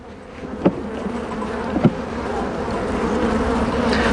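Steady, dense buzzing of many bees hovering close by at a hive during a spring check, a continuous drone with a couple of brief knocks, no voices.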